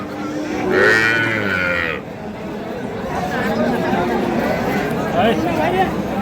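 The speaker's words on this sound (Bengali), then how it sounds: "আমরা দেখছি সাইওয়াল সিন্ধি এবং দেশি জাতের যে গাভী গরুগুলো গরুগুলো রয়েছে" Sahiwal, Sindhi and local breed dairy cows low at a busy cattle market at Ambari haat, one loud moo near the start among crowd chatter and speech throughout.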